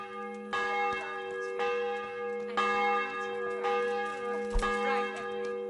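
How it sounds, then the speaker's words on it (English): A church bell in the medieval game Kingdom Come tolls steadily, with five or six evenly spaced strikes whose long, humming overtones ring over one another, loud and close, with no voices. "wouldn't you like to have a little ring on the bell?"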